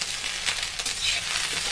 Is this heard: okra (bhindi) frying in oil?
yes